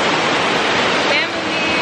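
Running water at a bath feature gives a steady, fairly loud rush of splashing water that stays even throughout, with a slight dip in level near the end.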